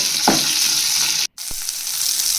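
Onions fry in a pan with cumin and green chillies, a loud continuous sizzle broken by a brief silent cut and a single knock against the pan, with no voices.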